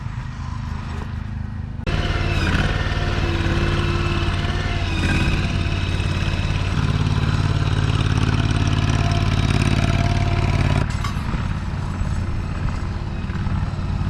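A chainsaw mill's petrol engine roars loud and steady as it saws an oak log more than 110 cm across into boards, after a quieter start, with no talk.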